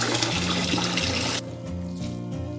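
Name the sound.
rinsing cooked rice noodles under cold water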